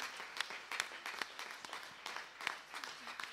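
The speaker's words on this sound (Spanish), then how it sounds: "¿le puedo dar un gran aplauso al Señor?" Church congregation clapping in praise, a steady wash of hand claps with scattered sharper individual claps, moderately close and fairly soft, with no voices standing out.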